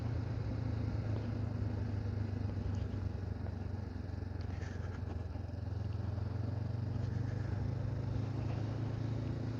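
Honda CB500F motorcycle riding along a road in Belgium, its engine a steady loud drone with wind rush, continuous and close throughout.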